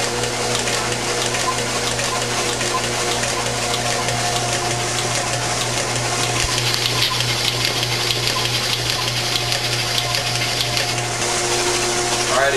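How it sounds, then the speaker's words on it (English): A 383 marine engine runs steadily on a test stand, its loud continuous drone carrying faint rapid ticking from the valves, unchanged from start to finish. "I hear some valves clacking over there."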